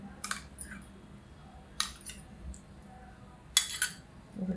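A spoon clinks against a bowl while pohe and rava batter is mixed with yogurt: a few faint, scattered metallic taps and scrapes over quiet room tone.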